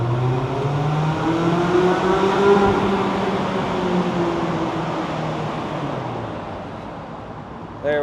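A Mazda Miata accelerates hard from inside the cabin, its engine note climbing and falling through a sustained loud rev of about eight seconds with no talk over it.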